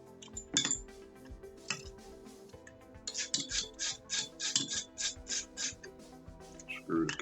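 A small screwdriver works the grip screws out of a CZ75B pistol, giving a run of rhythmic metallic scraping and clinking strokes, close and fairly quiet, with faint handling noises around them.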